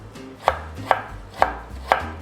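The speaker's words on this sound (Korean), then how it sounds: "자, 이제 만돌린으로 곱게 면을 밀어 놓은 감자를 채를 썰어 줄게요" A knife cuts thin mandoline-sliced potato into strips on a cutting board, giving four crisp, evenly spaced chops about half a second apart against a quiet background.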